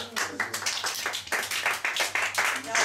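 Scattered applause from a small audience with a few distinct handclaps, while people talk over it at moderate volume.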